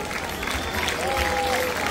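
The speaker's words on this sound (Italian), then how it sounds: "facciamo un grandissimo applauso ai giovanissimi interprovinciali anno 2011" Audience clapping at a team presentation for Follonica Gavorrano's 2011-born youth football squad: steady, dense applause from a crowd, continuous and fairly loud, with a voice faintly mixed in beneath it.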